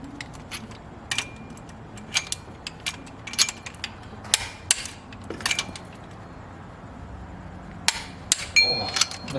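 Torque wrench clicking while engine head studs are tightened on a 4EFTE engine, a series of sharp, faint metallic clicks at irregular intervals over a low background hum.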